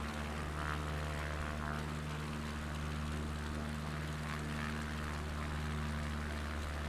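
Small bush aircraft engine in a flight simulator, a steady droning propeller hum at high power, constant and even throughout with no talk.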